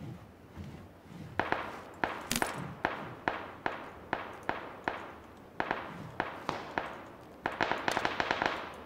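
Gunfire rings out in the battle game PUBG, aimed at the player: a long string of sharp, cracking shots at a fairly regular pace, some close and loud, ending in a quicker cluster.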